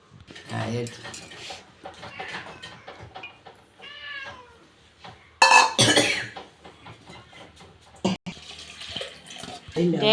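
Water splashes into a pot of green gram curry with onion, potato, tomato, carrot and chilli, a short gushing pour between stretches of someone talking.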